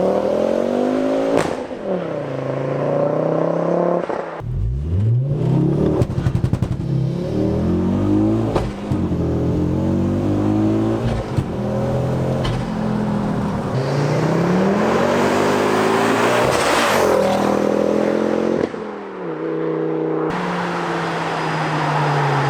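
A Mk2 Ford Focus RS engine revs hard and accelerates repeatedly, roaring up through the gears with loud, close exhaust and brief drops between pulls.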